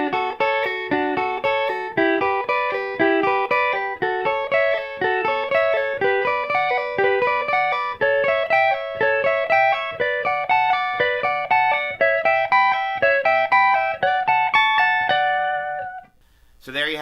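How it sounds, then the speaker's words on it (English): Electric guitar playing diatonic climbing harmony arpeggios, a continuous run of rapid, evenly picked notes with a harmonized second line, bright and steady for about fifteen seconds before a brief pause. "Go up 2 scale tones, play the appropriate arpeggio, instant harmony."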